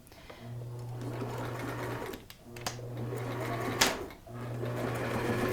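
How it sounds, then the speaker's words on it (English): A sewing machine runs a straight stitch through turban fabric, three sustained bursts of steady motor whir and needle chatter, close and loud, separated by short pauses with small handling clicks. "we're going to stitch that together with a straight stitch"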